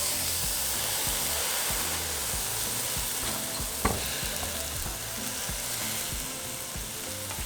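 Carne asada meat on a hot grill, a steady loud hiss of sizzling fat that fills the whole stretch evenly, with one brief tap partway through and no one speaking.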